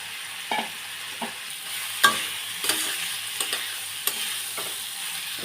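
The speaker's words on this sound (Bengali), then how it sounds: "মশলা কষানো হয়ে গেছে, এবার চিংড়ি মাছগুলো দিয়ে দেবো, দিয়ে কষিয়ে নেব" Prawns with okra and potato fry in a spiced masala, giving a constant close hiss of sizzling oil broken by irregular scrapes and taps as a spoon stirs the pan, with no voices.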